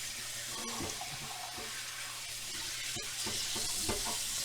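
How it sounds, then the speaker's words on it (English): Cold tap water runs steadily over raw chicken being rinsed at a sink, a soft continuous splashing hiss with occasional small knocks and drips, fairly quiet. "I'd just give this a quick rinse in cold water"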